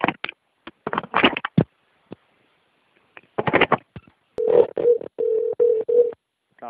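Phone call being placed to a FedEx Office store: a burst of rapid touch-tone keypad beeps, then a steady run of evenly spaced ringback tones, clear and close with short gaps and no talking over them.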